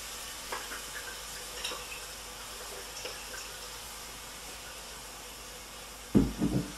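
Ingredients for paya soup frying quietly in a pan with a low, steady sizzle and faint stirring clicks, ending in a brief louder clatter.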